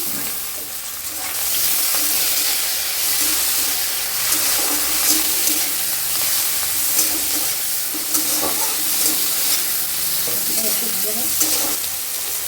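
Chopped tomato strips hit hot oil in a frying pan while cooking an egg curry, giving a steady, close, broadband sizzle that holds for the whole stretch with occasional stirring scrapes and no talk.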